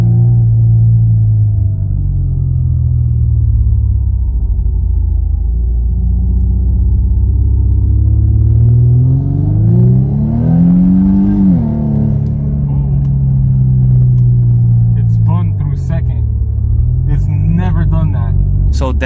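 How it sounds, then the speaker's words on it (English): Steady engine rumble inside an Infiniti Q50 or Q60 cabin after a transmission mount change, with a faint drivetrain whirring that rises and falls in pitch as the car accelerates; people talk over it. "I can hear a little drivetrain noise. It's, you can kind of hear a whirring noise."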